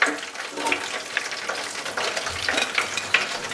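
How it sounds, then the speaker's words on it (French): Food frying in hot oil while cooking homemade cheeseburgers: a steady close crackling sizzle with bursts of popping and occasional stirring clinks, with no voices. "Donc on les a bien laissés frire."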